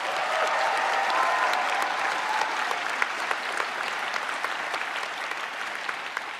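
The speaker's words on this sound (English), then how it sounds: "give yourself a round of applause" A graduation convocation audience at George Brown College applauds steadily, dense sustained clapping from a large crowd filling the hall throughout, with a few sharper individual claps standing out.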